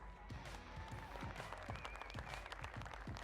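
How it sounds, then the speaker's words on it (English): An audience at an Australian women's timbersports championship claps steadily at a lively outdoor event, the applause continuing over a busy background. "Keep the applause going, ladies and gents."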